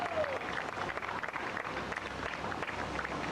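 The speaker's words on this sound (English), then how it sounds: "Let's give him another round of applause" An outdoor rally crowd at the Million Marijuana March in Cincinnati, 2004, claps for a speaker from the Indiana Normal Party, moderately loud steady clapping with slight surges and a brief whistle at the start.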